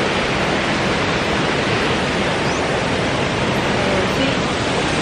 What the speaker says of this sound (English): Waterfalls, a lot of waterfalls here.